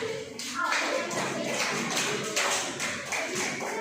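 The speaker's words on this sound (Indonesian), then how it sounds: "Tepuk tangan dulu untuk semuanya." A school class applauds in a classroom, with dense, fairly loud hand clapping that runs steadily for several seconds alongside faint voices.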